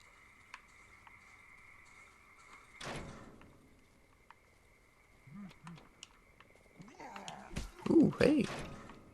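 Enemies opening doors in the swamp of the video game Darkwood, a sharp thud near the start and heavier bangs and scrapes toward the end, over a faint hum, with a voice speaking in between.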